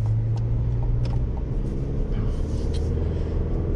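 A 2024 Chevy Colorado Trail Boss with a 2.7-liter turbo four-cylinder drives on the road, a steady low engine and road rumble heard from inside the cab, with faint clicks and a murmur of voice at times.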